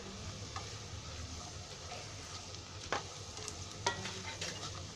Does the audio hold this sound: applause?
no